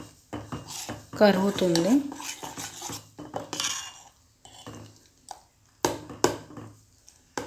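A spoon stirs butter melting into ghee in a metal pot in a home kitchen, giving repeated clinks and scrapes against the pot at a moderate level, with a voice speaking briefly over it.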